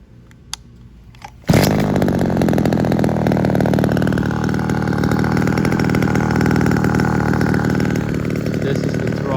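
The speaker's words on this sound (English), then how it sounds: "It starts and runs nicely now that I've rebuilt the carburetor." A Kawasaki TF22 line trimmer with a rebuilt carburetor starts after a few faint clicks and pulls, then runs loud and steady at a buzzing high idle for several seconds, close by.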